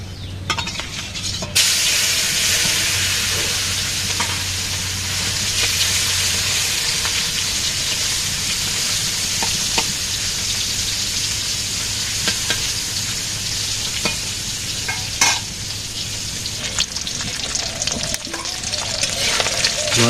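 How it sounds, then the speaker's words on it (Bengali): Fish fries in a pan in a village kitchen with a loud, continuous sizzle and hiss. Oil crackles and pops throughout, joined now and then by the clink of a utensil against the pan. "মাছটা ভাজি আগে মাছ"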